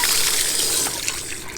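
Water runs steadily from an opened outdoor hose faucet during a leak check after a repair, a continuous broadband rush and trickle that eases slightly partway through, with no talking.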